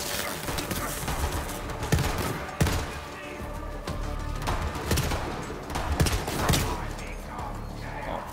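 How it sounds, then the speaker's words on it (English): Enemy gunshots in Borderlands 3, scattered sharp cracks spaced a second or so apart amid busy game noise, with a player talking throughout. "I'm routinely hearing gunshots behind me that really are him, and I'm not in danger."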